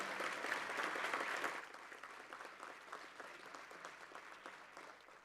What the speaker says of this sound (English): let's give y'all a round of applause